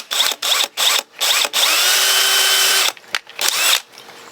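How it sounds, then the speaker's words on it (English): An auger drill bores into wood with loud, grinding bursts: several short stop-start runs, one long sustained spin, then a few more brief pulses, close and alone. "So you can see my auger went a little bit past the line"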